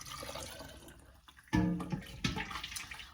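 Hot vegetable stock pours into glass jars, a soft liquid splash and trickle with a few small clinks, close and fairly quiet.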